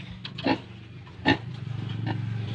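A sow grunts in a pen on a pig farm, two sharp close grunts followed by a rising run of rhythmic snorting grunts, loud and near with no speech.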